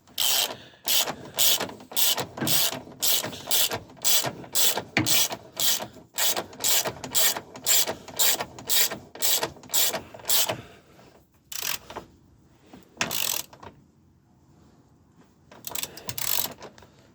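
A hand ratchet tightens the brace bolts of a brake master cylinder brace on a 350Z, a long quick run of sharp clicking strokes, close and loud, then a pause and a few final bursts.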